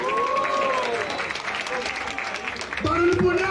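A crowd at a Brazilian rap battle cheers and applauds loudly for the rapper Magrão, with steady dense clapping, whistles and shouts, and a voice calling out over the noise.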